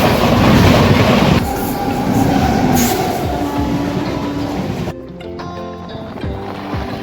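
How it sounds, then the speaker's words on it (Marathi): A Narsapur–Chennai Vande Bharat Express overtakes, heard from inside a moving ICF-coach passenger train: a loud rushing roar with rumbling wheel noise that drops sharply to a quieter, rhythmic rolling rattle. "Narsapur Chennai Vande Bharat express overtake"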